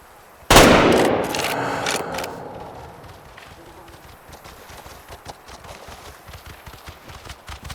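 One sharp, loud hunting-rifle shot in the video game Way of the Hunter 2, followed by a long fading echo that rolls out under quiet background rustling.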